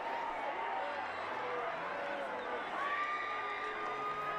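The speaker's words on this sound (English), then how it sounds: "You can hear the student section here at San Marcos, on this side of the field at least" Student section crowd at a San Marcos high school football game, a steady distant roar of cheering and whoops that holds throughout, with a louder swell near the end.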